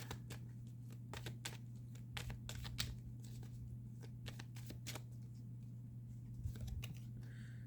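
A deck of tarot-style magic cards shuffled in steady bursts of crisp riffling and snapping, close and fairly quiet over a constant low electrical hum, with no talking.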